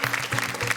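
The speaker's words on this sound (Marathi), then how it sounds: "एकदा जोरदार टाळ्या" An audience on a Marathi TV game show breaks into a short, lively burst of clapping, many hands close together in a quick patter lasting under a second.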